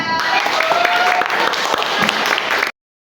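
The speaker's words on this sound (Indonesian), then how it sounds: "Tepuk tangan." A class of fifth-grade students applauds together, brisk dense clapping running steadily for a few seconds before cutting off abruptly into silence, with a voice faintly mixed in near the start.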